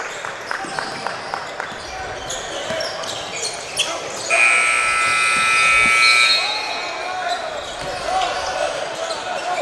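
A sustained electronic buzzer sounds for about two seconds amid a noisy gym during a basketball game, with sneaker squeaks, ball bounces and crowd chatter.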